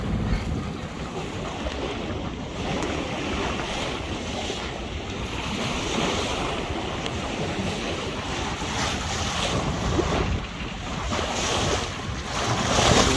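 Choppy sea around a sailing boat in Colwyn Bay: continuous rushing, splashing water with steady wind buffeting the microphone, no voices.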